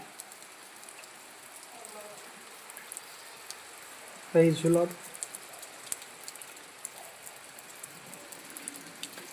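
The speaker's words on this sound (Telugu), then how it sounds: "తుఫాన్ చూడండి ఎలా పడుతుందో" Heavy rain pours steadily during a storm, a dense continuous hiss that runs the whole way through, briefly covered midway by a short burst of a voice.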